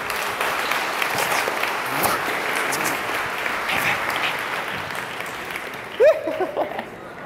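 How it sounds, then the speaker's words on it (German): An audience claps loudly and continuously for a large ensemble at a talk on body language and improvisation, a dense wash of applause that carries through to the end. "Meine Damen und Herren, klatscht bitte für mein Riesenensemble."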